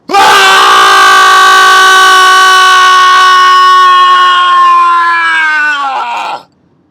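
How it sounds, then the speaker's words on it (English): A woman yells long and loud to let out frustration, one sustained, harsh, tonal scream lasting about six seconds, very close and intense before breaking off abruptly. "I will literally take some space and I will go and yell."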